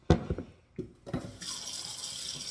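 Hot water running steadily from a kitchen tap into a sink, a continuous hiss that follows a few knocks and bumps of handling nearby.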